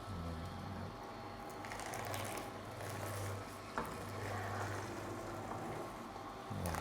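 An Angel Juicer cold-press juicer grinds kale with a steady low motor hum that carries through the whole clip, with brief dips and a sharp click near the middle.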